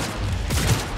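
Pistol shots fire in Cyberpunk 2077, a dense, loud burst of gunfire that fills the whole second with overlapping cracks and booms.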